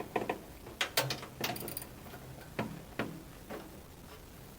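A socket wrench on a flex shaft extension turns a rear cover bolt on a Chinese mini excavator, producing a string of irregular ratcheting clicks and metallic ticks, close and moderately loud, with no speech.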